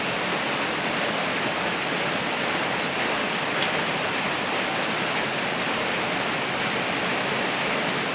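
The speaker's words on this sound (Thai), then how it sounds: "ฝนตก ตกมาเต็มบ้านนะครับ" Heavy rain pours down on a village in the Phu Phan area of Kalasin, Thailand, in a steady, dense hiss that stays loud and unbroken throughout, with no voices.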